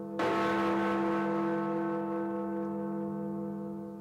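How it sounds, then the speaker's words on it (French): Big Ben, the large clock tower bell in London, strikes once, its rich deep ringing tone sustaining and slowly fading over several seconds with a faint hum of background noise. "Puis cette cloche si caractéristique que les Londoniens avaient presque oublié."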